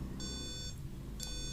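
Two short bursts of high electronic beeping from a small speaker driven by an Arduino, separated by a brief pause, over a faint low hum.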